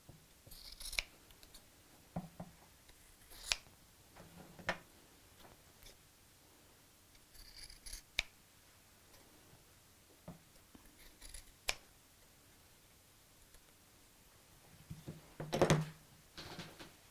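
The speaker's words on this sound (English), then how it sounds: "And then cut out that shape." Scissors snipping through fabric to cut out a tote bag shape, heard as sparse, faint, close clicks and crisp snips at irregular intervals against a quiet room.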